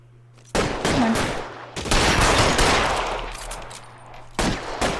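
Gunfire in the L.A. Noire video game shootout, bursts of rapid shots and a rattling fusillade crowding together, loud and close, with brief gaps between volleys.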